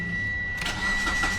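A Proton Inspira car engine cranks and catches partway through, the steady background giving way to a broader running engine rumble, close and fairly loud.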